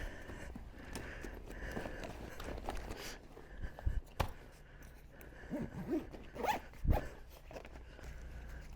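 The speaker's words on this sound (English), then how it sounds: "This makes it easier to zip up." A zipper is drawn along a folded Advanced Elements AE1009 Expedition Elite kayak bag with a rudder kit inside, with quick close zipping runs, then rustling fabric and a few soft thuds as the bag is handled.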